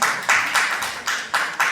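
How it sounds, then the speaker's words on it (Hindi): A crowd at a book launch ceremony claps loudly in rhythm, the applause swelling in regular pulses about every quarter second, close and dense with no talk over it. "जोरदार तालियों के साथ"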